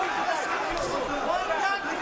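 Arena crowd at a PFL mixed martial arts event at Nassau Coliseum chanting rhythmically, a dense mass of voices echoing through the hall, steady and moderately loud.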